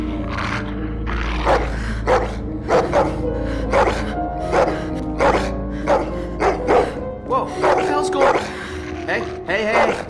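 Dogs bark in the game The Walking Dead: The Telltale Definitive Series, with repeated loud, close, aggressive barks and growls over a low droning backdrop, and speech is mixed in.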